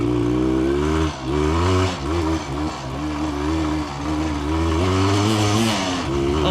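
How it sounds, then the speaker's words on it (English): A two-stroke motorcycle being ridden, its engine revving hard with a loud, buzzy, continuous note that rises and dips through gear changes, heard up close with no talking. "Finally a 2-stroke that feels like a 2-stroke."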